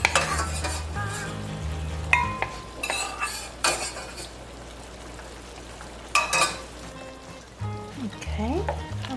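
Tomatoes and garlic stirred in a pan for a leek and olive stew, with a spoon scraping and clattering against the metal in repeated bursts over a steady low sizzle.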